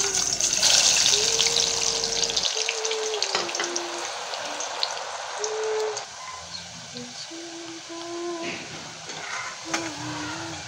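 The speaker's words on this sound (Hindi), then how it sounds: "अब ये आलू जो सारे मैंने क्यूब्स में काटे हैं, अब हम इसको ऑयल में फ्राई कर लेंगे।" Cubed potatoes deep frying in oil give a bubbling, crackling sizzle that is strongest early and settles into lighter popping, with some tonal kitchen sounds and a voice in the background.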